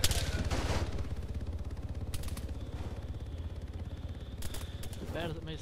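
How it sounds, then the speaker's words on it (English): Gunfire in a survival video game crackles as rapid bursts, fairly faint and distant, beneath the low rumble of the game scene. "They're shooting at me."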